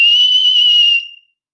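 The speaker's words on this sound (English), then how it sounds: "So that was a whistle through my teeth." A person whistles loudly through the teeth, one sustained shrill, steady tone held for about a second that then tapers off quickly into silence.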